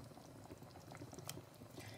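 Fish curry simmers in a pot in a Sri Lankan kitchen, a faint bubbling boil with small pops and a soft, steady simmer, alone without talk.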